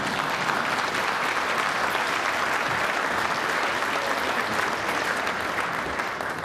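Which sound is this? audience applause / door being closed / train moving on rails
audience applause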